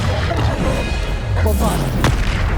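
Bombarda spell explosions booming in the Hogwarts Legacy video game, a dense run of heavy blasts and crashes with a sharp impact near the end, over continuous game noise.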